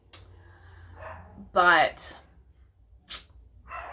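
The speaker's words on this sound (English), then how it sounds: "Sorry, the dogs are barking in the background." Dogs bark in the background in short bursts, moderately loud and somewhat distant, breaking in around and under a person talking indoors.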